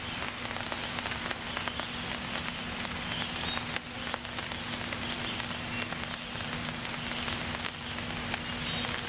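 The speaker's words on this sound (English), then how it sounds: "if you listen, you can hear the rain coming now" Steady rain patters over an overnight hammock camp in bear country, a dense even hiss with scattered drops and a faint constant hum underneath, no voices.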